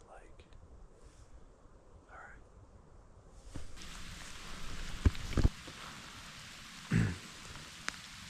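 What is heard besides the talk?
rain falling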